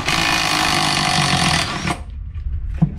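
A wrench with a deep well socket drives out engine bolts on a Polaris SLT 750, a loud, rapid close-up ratcheting buzz lasting under two seconds, then a brief rattle and clunk.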